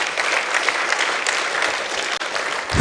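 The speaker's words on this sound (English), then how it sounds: "Please let us give him another round of applause." An audience at a management lecture applauds, a dense, steady burst of clapping from a large crowd that carries on the whole time with no speech over it.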